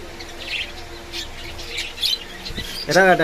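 Budgerigars in a pet shop give scattered chirps and squawks, with a louder burst of calls at the end, while people talk faintly nearby.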